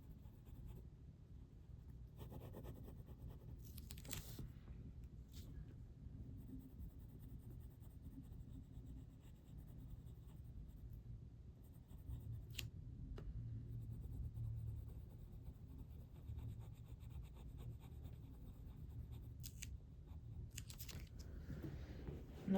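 A pencil shades a drawing of a GE P42DC locomotive on paper, with soft continuous scratching strokes close up, interrupted now and then by brief louder scrapes and taps.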